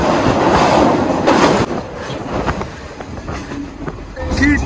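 A Sri Lankan passenger train that stops at every station rumbles along loud and close, with steady wheel clatter and a few squeals from the wheels. Voices talk faintly in the carriage beneath the running noise.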